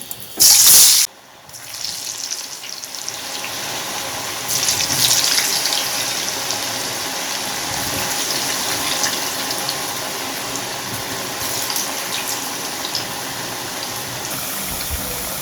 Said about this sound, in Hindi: ऑयल जो हमारा ये काफ़ी गर्म था और फ्राई मैंने अंदर डाल दी है। अब इसे फ्राई कर रहे हैं।